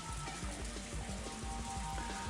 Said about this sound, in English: We're in the middle of the forest, and on top of that, it's raining.